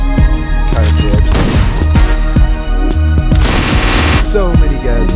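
Rapid Uzi bursts rattle through a top-down Hotline Miami shootout, loud and dense, with repeated sharp volleys layered over pulsing game music for about five seconds.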